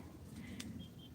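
Birds call faintly and intermittently in the background on the slopes of Tai Mo Shan among flowering plants, with soft cooing and chirping over a steady wash of outdoor ambience.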